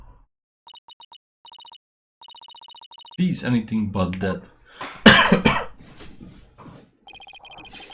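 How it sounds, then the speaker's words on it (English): Electronic phone ring from the Phoenix Wright: Dual Destinies 3DS game, a repeated short beeping trill in bursts at the start and again at the end, with people talking and coughing loudly in between. "Why is my phone lighting up?"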